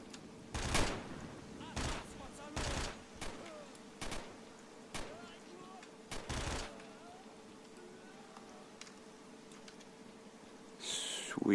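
Gunfire in the video game STALKER: Shadow of Chernobyl, several sharp single shots spaced a second or so apart, moderately loud, followed by a quieter stretch and a closing burst of noise.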